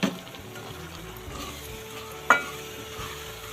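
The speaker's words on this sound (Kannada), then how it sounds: "ಮಿಕ್ಸ್ ಮಾಡೋಣ ಚೆನ್ನಾಗಿ." Spice powders are stirred into frying tomato gojju, making a low, steady sizzle, with a sharp knock of a spoon at the start and a single clank partway through.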